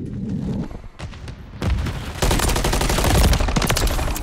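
Gunfire in Modern Warfare 3 multiplayer, shots punching through a wall: dense, rapid bursts that grow louder and more sustained partway through and roar on continuously to the end.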